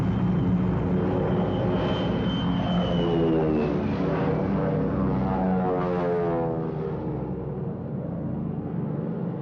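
A twin-engine P-38 fighter aircraft droning steadily past, its engine and propeller tone shifting in pitch as it passes, loud and continuous for several seconds with no talking.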